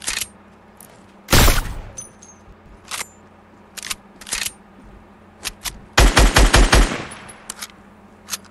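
Gunfire in a PS4 shooter game, short single shots scattered among sharp bursts including a rapid automatic volley near the end, loud and punchy over a low steady background hum.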